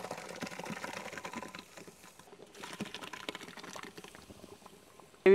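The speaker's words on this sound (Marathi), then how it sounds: "मसाला व्यवस्थित परतून घेऊ।" Black masala gravy being sautéed in a pan, a soft continuous bubbling and sputtering with light spatula scrapes, close but fairly quiet, ending in a brief sharp knock.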